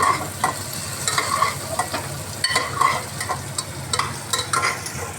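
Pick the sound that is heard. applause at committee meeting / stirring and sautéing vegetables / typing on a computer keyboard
stirring and sautéing vegetables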